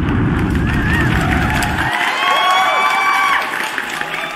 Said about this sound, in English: Give you that round of applause too,